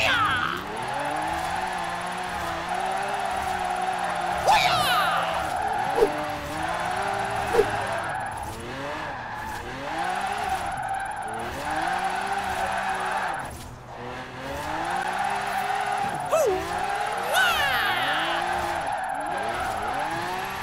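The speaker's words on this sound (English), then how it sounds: "Let's give this drift zone a rumble." Forza Horizon 4 drift zone run in Otleydale, a racing-game car revving hard and sliding, engine pitch rising and falling repeatedly through gear changes with tire squeal, loud and continuous for about twenty seconds.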